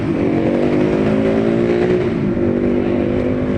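Road traffic on Santolan and Boni Serrano, with cars passing and engines humming loudly and steadily nearby, one vehicle accelerating, without pauses.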